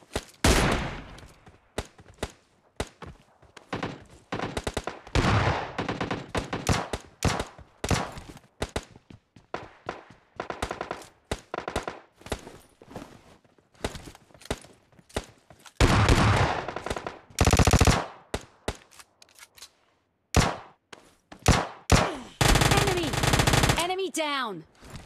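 Rapid automatic gunfire in PUBG Mobile Lite, loud bursts and sustained rattling volleys with brief pauses between, dense stretches later in the sequence, and a voice speaking intermittently beneath the shooting.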